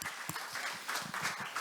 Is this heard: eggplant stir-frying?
no